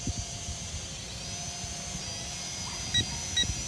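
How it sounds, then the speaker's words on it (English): Two short electronic low-battery beeps from a Snaptain SP650 drone sound a few moments apart over a steady whirring motor and wind noise outdoors. "we got beeping. There's our low battery, right at 11 minutes."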